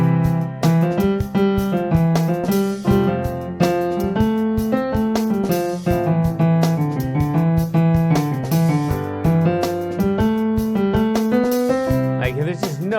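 A piano plays a busy, unbroken melody with no rests, its notes running together in steady succession over a sustained lower part, loud and close throughout with no talking.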